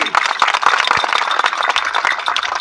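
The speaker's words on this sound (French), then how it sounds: "Applaudissez pour lui." A crowd applauds at a village festival in Kanou, Côte d'Ivoire, with dense, steady clapping that fills the short clip loudly and evenly.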